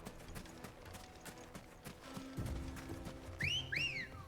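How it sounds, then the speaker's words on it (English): A chocobo runs in Final Fantasy XVI, its quick rhythmic footfalls patting along under game music before two bright rising-and-falling whistle calls ring out at the close. "Chocobo. Ready, go? Run like the wind."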